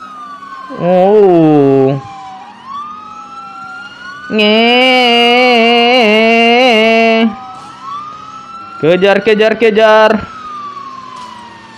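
Police car siren wailing loudly and up close in rising and falling sweeps, broken into several bursts with quieter gaps, and a brief fast yelp near the end, with short spoken words mixed in.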